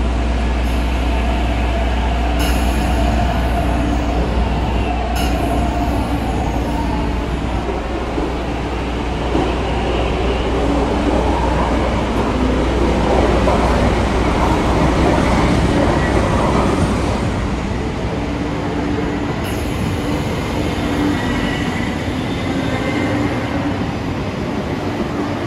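A train departing on the East Rail line in the Roblox video game, a loud continuous rumble and hum of the train moving with steady mechanical drone and tonal whine, lasting throughout.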